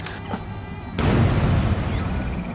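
Explosion in an anime, a sudden loud booming burst that swells into sustained rumbling debris noise after a short quieter lead-in.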